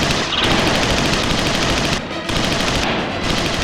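Machine gun fire in a reenactment of a gangland massacre: loud, close, continuous bursts of rapid automatic shots with two brief breaks between volleys.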